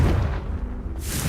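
Confringo fire-blast spell from the video game Hogwarts Legacy, a dense booming burst that fills the whole short moment, loud and close with a rumbling low end and a brighter crackle rising near the end.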